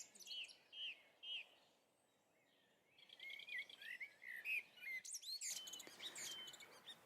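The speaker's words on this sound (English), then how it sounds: "I make a CD and include the bird sounds" Birds sing in an early-morning dawn chorus, with several bright chirping and warbling calls overlapping at a distance, fairly faint against a quiet outdoor background.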